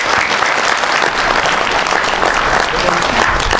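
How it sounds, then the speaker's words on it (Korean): Audience applause greets reporter Kim Seong-uk at a lecture on modern Korean history: dense, steady clapping from a large crowd, continuous and loud throughout with no pauses. "박수 보내주시기 바랍니다"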